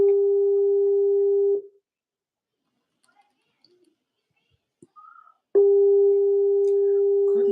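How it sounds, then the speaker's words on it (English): A laptop places an outgoing call: a loud, steady electronic ringback tone sounds for about a second and a half, falls silent for several seconds with faint small noises, then starts again. "So let me call her from my laptop."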